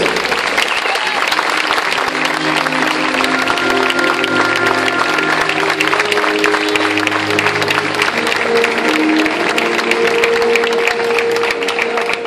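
A festival audience claps for performers at a singing event in Gáldar: sustained, dense applause fills the space loudly and evenly for several seconds, with music or voices faintly underneath.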